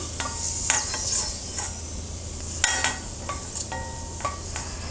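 Raisins fry in ghee in a kadhai with a loud, steady sizzle broken by sharp metallic stirring clinks from a spoon against the pan.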